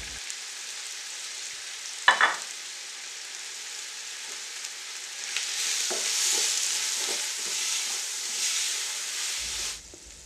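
Pilau spices frying in a pot give a steady sizzling hiss that swells louder midway, with a brief stirring scrape early on, and no voices.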